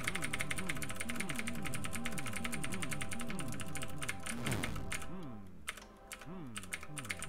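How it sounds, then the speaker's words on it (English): Steady computer keyboard typing throughout, dense rapid keystrokes close to the mic over a video game's looping sound effects, thinning near the end. "Probably can't hear much over my keyboard."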